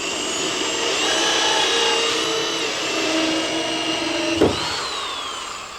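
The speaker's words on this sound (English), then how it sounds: "Now we'll finish drilling the hole from this side." Power drill boring a hole through a wooden door, steady whining motor hum held close and loud for several seconds, with a brief knock near the end.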